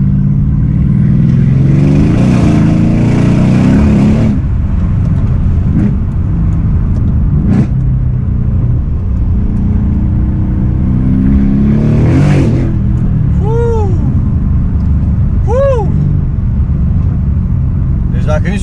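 A Mercedes CLS63 AMG engine revs loudly in bursts, with a throaty roar rising and falling, under excited talking and short whistling tones near the end.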